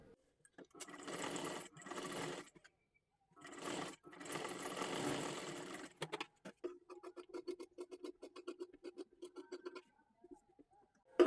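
A sewing machine stitches the neckline of a girl's lehenga made from a bordered saree in several close whirring bursts separated by brief pauses, ending in rapid short ticking stitches, loud and clear with no voices.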